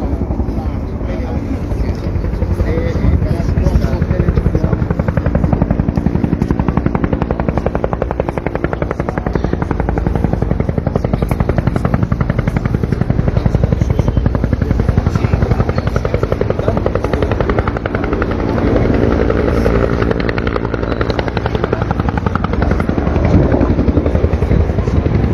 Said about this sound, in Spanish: Ya se viene acercando el segundo helicóptero en estos momentos.